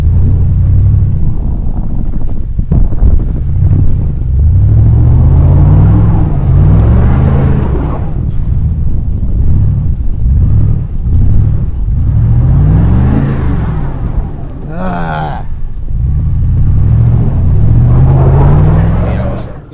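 A Ford vehicle stuck in a ditch spins its wheels as the engine repeatedly revs up and drops back, loud and near, with wind buffeting the microphone.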